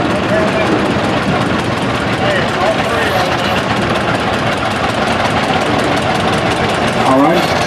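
A restored vintage tractor engine idles at a plow day, a loud, steady chugging rumble with a faint rhythmic knock, continuous and close, with a brief voice near the end.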